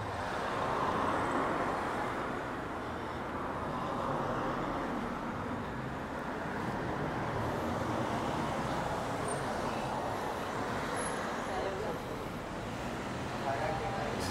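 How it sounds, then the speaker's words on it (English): Steady traffic noise outside the central bus station in downtown Arrecife, Lanzarote: a continuous, fairly faint roar of passing cars and buses holding at an even level throughout, with no clear single vehicle standing out. "And this is the central bus station"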